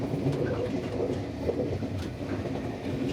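A train heading to Tainan, Taiwan rumbles along with a steady low roar and faint wheel clatter, heard from inside at moderate level without talk.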